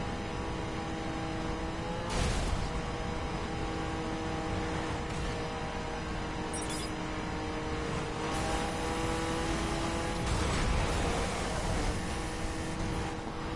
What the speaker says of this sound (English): I hit the rev limit.